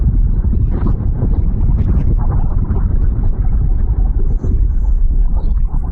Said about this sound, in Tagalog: Ayan ang lakas talaga ng hangin.